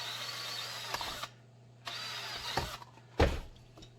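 A power drill bores holes in foam in short bursts, starting and stopping several times with brief pauses between, close by.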